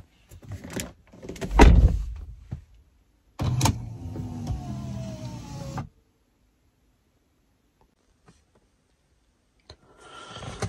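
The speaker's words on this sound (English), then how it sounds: "You've got electric seatbelt bucklers, but on the driver's side it appears to be worn to the point of not quite catching the seatbelt" On the passenger side of a BMW E92 335i, the electric seatbelt presenter arm runs with a short motor whir, and it is bracketed by nearby clicks and clunks, with near silence in between.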